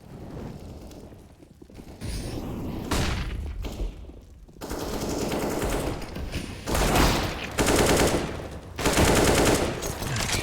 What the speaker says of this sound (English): he goes for the straight up wallbang into the mini pit